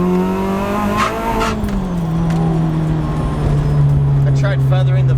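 Supercharged car with sticky tires spinning hard in first gear, engine revving loud and close with a rising, strained drone and tire noise throughout.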